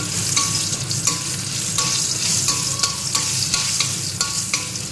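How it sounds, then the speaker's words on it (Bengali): Dry red chillies and bay leaves frying in hot oil for a dal tempering, a continuous crackling sizzle with rhythmic scraping and stirring strokes close by. "তেল গরম হয়ে গেছে, শুকনো লঙ্কা তেজপাতা ফোড়ন দিয়ে দিয়েছি।"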